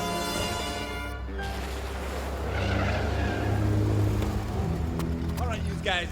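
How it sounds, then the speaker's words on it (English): A car starts up and pulls away with tires squealing and skidding, engine revving loud and close under excited shouting and talk throughout. "Start the car! Start the car!"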